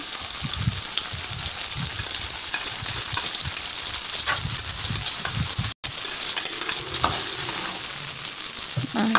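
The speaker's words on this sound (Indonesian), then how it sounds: "untuk bumbunya juga kita akan tumis sebentar" Ground spice paste sizzles and fries steadily in a hot pan for an Aceh-style sardine dish, a loud, continuous crackle with faint stirring scrapes and one brief gap.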